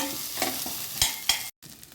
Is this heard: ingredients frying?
yes